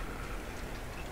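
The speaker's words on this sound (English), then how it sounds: "Sweet, beautiful rain." Steady rain falling in the dark side-scrolling puzzle game Limbo, a soft, even wash of patter and drips that holds at a constant low level throughout the brief moment, with no voices over it.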